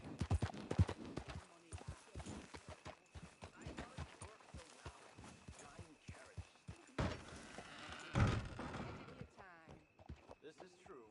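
Horse hooves clip-clop in a steady walking rhythm in Red Dead Redemption 2, close and clear, with occasional voices talking over the footfalls.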